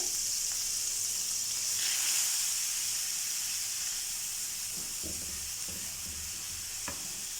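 Chopped onion and two green chillies sautéing in a pan, a steady bright sizzle and hiss with a few soft stirring scrapes near the end, close and without talking.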